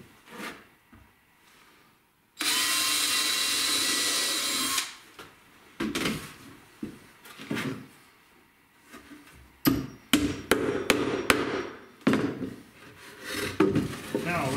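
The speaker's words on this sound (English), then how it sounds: "I need to pre-drill that." A drill pre-drills a pivot-nail hole in new wood while a bluebird nesting box is built. It gives one loud, steady whir of about two seconds, followed by scattered clicks, taps and knocks from handling the parts.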